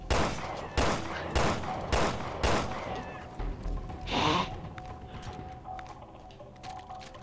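Gunfire in the Resident Evil Revelations 2 video game, five evenly spaced loud shots at the start, then a whooshing burst and scattered quieter game sounds over a steady low background.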